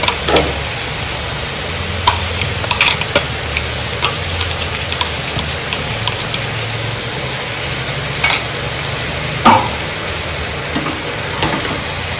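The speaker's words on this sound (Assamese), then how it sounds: "এনেকৈ ভাজি থাকিব অলপ টাইম" Chicken frying in a pan with garlic, ginger and green chillies, giving a loud steady sizzle all the way through, broken by occasional stirring clicks and scrapes.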